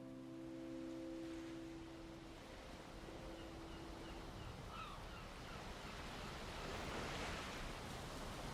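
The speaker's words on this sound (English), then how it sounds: "You're going to see a lot of moving water in this build." Moving water in a Valheim build using the Elemental Falls mod, a steady rushing wash like surf or falling water, with low droning tones fading out early on.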